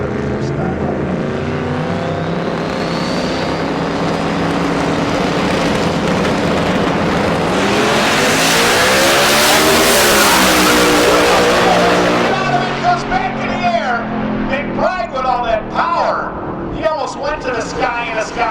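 Pro Modified drag race car engine, a Camaro, revving at a Manitoba racing event, a rising roar that swells to a loud peak then fades, with an announcer talking over it and crowd noise after.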